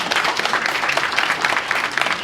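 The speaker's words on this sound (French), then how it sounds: "tous à vous lever et applaudir longuement pour rendre un vibrant hommage au travail remarquable du personnel de Sofitul" A standing audience applauds loudly in honour of the staff, with dense, even clapping that carries on steadily without talk.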